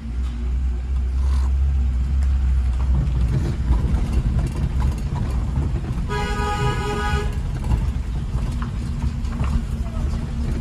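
A car creeps slowly through narrow lanes in first and second gear, its low engine rumble steady throughout, with a short horn toot from nearby traffic partway through.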